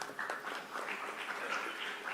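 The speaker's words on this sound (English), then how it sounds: "A round of applause to Ms. Ritu" Graduation ceremony audience applause for the class of 2025, a soft, distant wash of many hands clapping steadily throughout.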